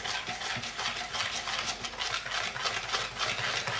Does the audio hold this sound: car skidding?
no